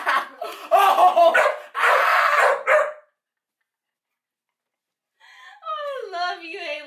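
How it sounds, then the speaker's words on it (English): A dog on a bed lets out a run of loud, close barks mixed with people laughing, then a pause, then whiny, moaning whimpers. "she just like sitting off the bed, just barking"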